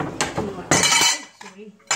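Cutlery scraping and clinking on a plate while roast chicken is sliced, a few bright, close metallic strokes and taps with short gaps between them.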